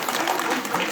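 Brief burst of dense audience clapping greets a guest stepping onto the stage at a public rally demanding prohibition of alcohol, steady and close for about a second.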